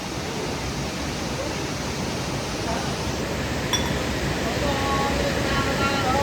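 Water flowing continuously over stone lingas at a Panchalingeswar temple, a broad, even rushing like a small cascade, steady and loud throughout with a faint voice underneath.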